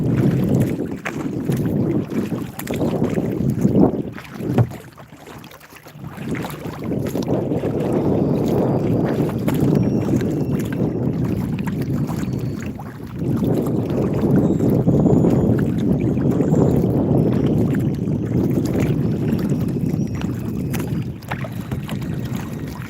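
A boat heads out across a shallow lake, giving a steady low rumble of motion and water with wind buffeting the microphone throughout, loud and close, with no talking.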